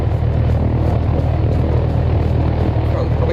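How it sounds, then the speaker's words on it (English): A helicopter in the DayZ survival game gives off a loud steady engine and rotor drone that holds evenly throughout, with people talking over it. "Oh, the helicopter, but I'm not going to take it."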